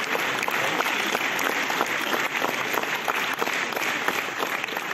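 Sustained audience applause at a Cannes Film Festival premiere of a Georgian film, a dense steady wash of many hands clapping that fills the hall continuously throughout.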